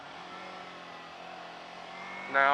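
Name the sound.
car accelerating back up to speed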